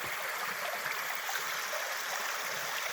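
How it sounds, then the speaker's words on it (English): A small mountain stream flows steadily over rocks beside a little waterfall on a trail, a constant gentle rushing and trickling with no voices. "Step across. Stream a little."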